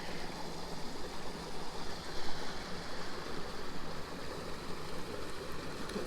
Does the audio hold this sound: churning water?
yes